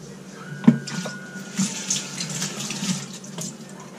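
Water runs steadily from a close source into a blender over cashews, a continuous splashing pour with a few brief knocks, no voices.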